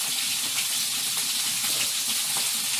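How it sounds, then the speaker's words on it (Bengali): Eggplant frying in a pan, a continuous bright sizzle and crackle of hot oil, close and steady, with no talking. "বেগুন ভেজে দাও একটু দেরি করো আমি ভেজে দিই"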